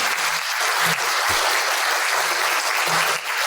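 An audience bursts into sustained applause for a speaker, many hands clapping densely and close with no talk over it, holding steady until a slight dip near the end.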